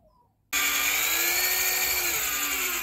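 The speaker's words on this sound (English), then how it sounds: "get a screw and a cordless drill, and then we're going to put some screws in there" A cordless drill whirs steadily at close range for over two seconds, starting abruptly after a short quiet pause, as it drives screws into a wooden workpiece.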